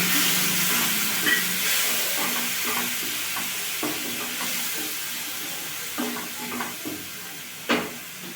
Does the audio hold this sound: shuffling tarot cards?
no